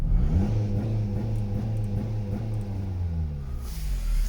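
A Toyota Yaris engine revving with the pedal floored, held against a limp-mode or launch-control limiter around 3,500 RPM, a steady droning rumble with slight wavering pitch, close and continuous.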